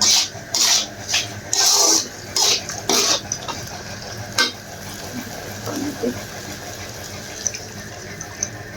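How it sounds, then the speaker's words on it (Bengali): Spice masala being stir-fried in a pan for a rohu fish and winter vegetable curry: several quick, rasping scrapes of a spatula in the opening seconds, then quieter intermittent scraping against a low kitchen background. "দিয়ে ভালো করে মশলাটা কষিয়ে নেব।"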